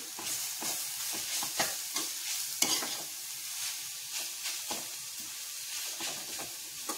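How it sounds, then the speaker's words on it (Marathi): A spatula repeatedly stirs food frying in a pan over a medium flame, with rhythmic scraping strokes over a soft continuous sizzle, close and moderately quiet with no speech. "ह्याला छान हलवून घ्यायचंय"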